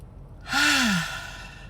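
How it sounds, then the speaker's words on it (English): A single deep breath during a relaxation exercise, a soft airy exhale rising and falling over about half a second, close and alone with quiet around it. "Inhale."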